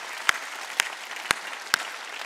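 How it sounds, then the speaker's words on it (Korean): A church congregation at a Wednesday worship service claps in unison, four sharp, evenly spaced claps over low room noise. "박수 치려고 세게 치라고. 세게."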